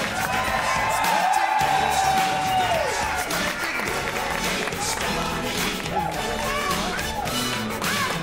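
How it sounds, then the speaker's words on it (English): Live audience at a Circus Erotique curtain call applauds and cheers the performers, a steady wash of clapping and whoops under a host's voice and background music. "Can I get a warm round of applause for"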